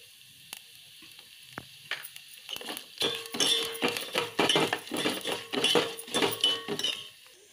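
Spices tempering with turmeric in hot oil in a pan, a close sizzle broken by repeated scraping and clinking of a metal spoon as it stirs, in rhythmic bursts, with no talking.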